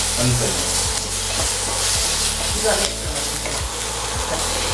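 Paneer frying in a pan with tomato sauce: a loud, steady sizzle with regular spatula strokes scraping the pan about twice a second, close up and with no voices.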